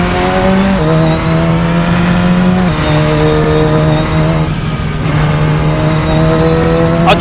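A Radical SR10 XXR race car engine holds high, steady revs and loud, close, with sharp pitch drops at each gear shift and a sustained whine throughout, no talking.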